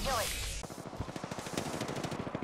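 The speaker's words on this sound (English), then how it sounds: "opening fire on the enemy" Rapid bursts of CAR submachine gun fire ring out in a video game shooter, a dense string of quick shots lasting about two seconds after a short opening sound.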